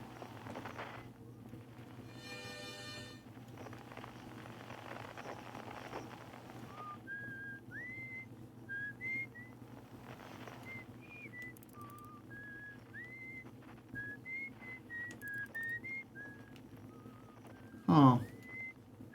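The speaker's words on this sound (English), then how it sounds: "Where's that whistling coming from?" Faint melodic whistling from Outer Wilds drifts in a series of short rising and falling phrases over a quiet ambient hum, with a brief louder burst near the end.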